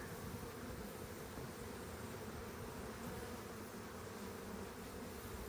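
Honeybees hum steadily and densely around an open hive while a colony is split. The buzzing is close and continuous with no voices.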